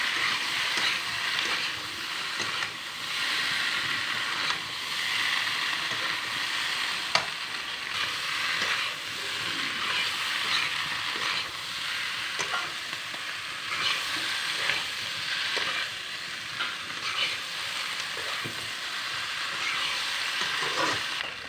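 Potatoes fry in a pan for a home-style Assamese potato fry seasoned with salt and turmeric, crackling in a steady sizzle broken by frequent scraping stirs that run close and continuous throughout.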